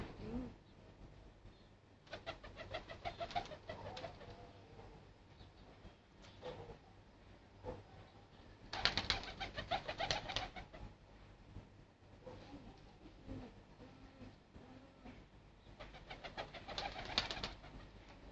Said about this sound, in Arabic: عندنا هنا طيور المطاريد يعني شوف ايش قد مطارد شوف